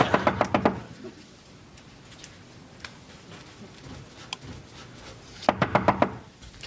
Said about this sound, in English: there's somebody knocking on the door in the middle of the night